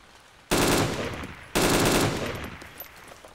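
Two loud bursts of rapid automatic gunfire in DayZ, each a dense rattling volley starting abruptly and tailing off, the second following about a second after the first.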